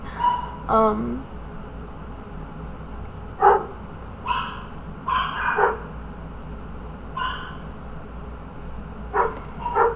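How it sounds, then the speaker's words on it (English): Several dogs bark and yip intermittently at moderate distance, short bursts scattered throughout, with a steady background hum. "I'm sorry about my dogs barking."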